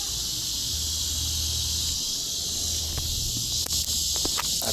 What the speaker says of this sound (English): you can hear the cicadas getting louder and louder and louder